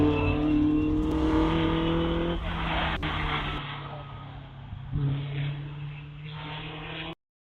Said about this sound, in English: going down the back straight in his Formula Vauxhall